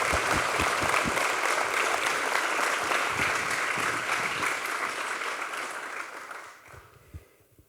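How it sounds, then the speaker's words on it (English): Sustained audience applause for a retiring police chief at a State of the City event, a dense, loud wash of clapping from a large crowd that gradually thins out and fades to a few last claps. "So another round of applause for Bob Wieners."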